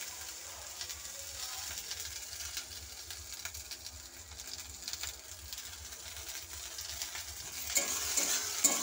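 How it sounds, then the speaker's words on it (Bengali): Okra frying in a pan with salt and a little turmeric gives a soft, steady sizzle, with faint rhythmic scraping as it is stirred. "আমি এবার ঢ্যাঁড়সটাকে ভালো করে ভেজে নেব"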